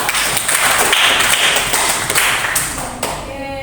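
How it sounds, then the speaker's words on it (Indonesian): A classroom group gives a short burst of applause for a student named Lira, dense and close clapping that fades toward the end. "Berikan aplaus dulu pada Lira."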